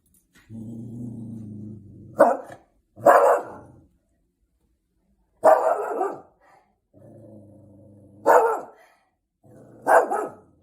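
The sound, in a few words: dog barking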